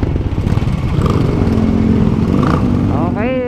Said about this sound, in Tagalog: Pag matic ang motor, isang birit mo lang, rat na.